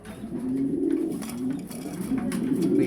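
A pigeon in its breeding period gives low, steady cooing that continues throughout, close and moderately loud, with no talking.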